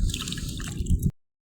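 Water released from a tilapia fish farm cage makes a close, wet splashing gurgle that lasts about a second before cutting off to silence.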